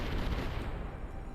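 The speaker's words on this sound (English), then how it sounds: "Oof, the cannon barrage. Can't dodge that." A cannon barrage in the war strategy game Symphony of War booms as a dense, rumbling burst of blasts that rolls on and fades slightly over a brief stretch, with no voices.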